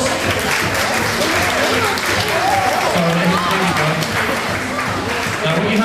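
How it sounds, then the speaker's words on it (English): Loud, sustained applause from a crowd of guests at a wedding party quiz, dense clapping close by with voices mixed in throughout. "Let's have a round of applause."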